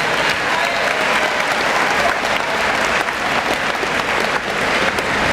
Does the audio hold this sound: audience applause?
yes